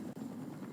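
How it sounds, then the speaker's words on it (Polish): A helicopter from the video game Fortnite whirs steadily at close range, a continuous low engine and rotor drone throughout the short moment. "kradłem helikopter"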